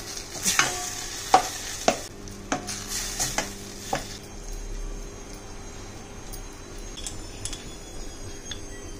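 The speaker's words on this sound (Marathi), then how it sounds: "या मसाल्यामध्ये आपल्याला जे वांग जे भाजलेलं आहे ते पूर्ण आपल्याला ह्याच्यात मॅश करून घ्यायचं आहे चांगलं." A spoon works roasted eggplant into a spice mix in a pan for Khandeshi baingan bharta, clanking and scraping in several loud close knocks early on, then a softer low sizzle with faint occasional taps and no speech.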